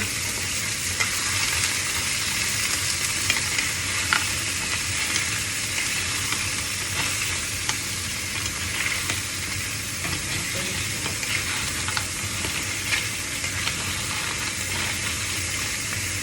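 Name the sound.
seashells frying and sizzling in a pan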